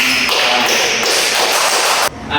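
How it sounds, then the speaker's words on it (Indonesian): A classroom of students applauds two student groups during a microteaching lesson, with dense, close, even clapping that continues for about two seconds and then stops abruptly. "Silakan kita beri aplaus untuk kedua kelompok"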